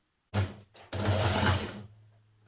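A home sewing machine stitches around the neckline of a dress in two close bursts, a short run and then a longer steady whirr, before stopping into quiet.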